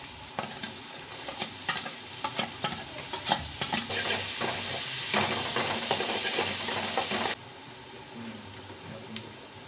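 Onion, carrot and beans stir-fry on high flame for fried noodles, a loud hissing sizzle punctuated by rapid scraping stirs and clacks, swelling in the middle before abruptly dropping to a quieter simmer.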